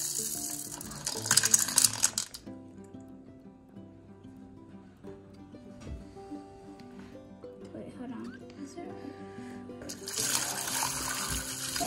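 Tumbled rocks are poured into water and washed, giving a loud rattling clatter at the start and again near the end, with sloshing and rinsing noise between.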